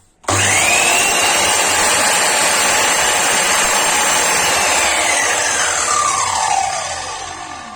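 An Erbauer EMIS216S radial mitre saw runs without a vacuum attached, whining loudly and steadily, its pitch sliding downward near the end as the blade winds down, with no other sounds.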